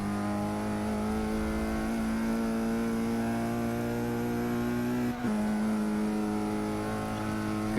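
A race car engine in Forza 6 drones with a sustained tonal whine that shifts pitch as the revs change, steady and prominent with no talk over it.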